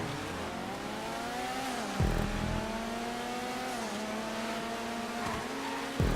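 Racing engines in GTA 5 on a rally circuit of the PC version, a steady high revving drone with gear-shift drops near two and six seconds, loud and close throughout with no talk.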